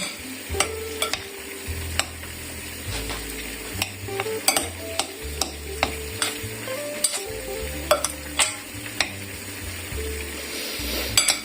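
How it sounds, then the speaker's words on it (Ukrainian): A spoon stirs a spiced mixture frying in a pan in a home kitchen, giving a steady sizzle with regular scraping and clinking strokes and low music underneath. "все це ретельно перемішую."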